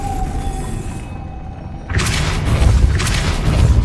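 A Depulso spell cast in the video game Hogwarts Legacy, a loud whooshing blast that kicks in suddenly after a brief quieter moment and rumbles on with a booming, forceful surge.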